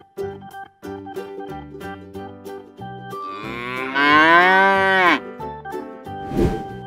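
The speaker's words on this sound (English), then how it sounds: "Cow." A cow gives one long, loud, drawn-out moo that rises and then falls, over a light background music track with simple repeating notes.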